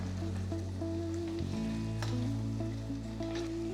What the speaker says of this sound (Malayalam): എപ്പോഴും ഈ മസാലയ്ക്കകത്തിട്ട് മട്ടൺ നന്നായിട്ട് വഴറ്റിയെടുക്കുക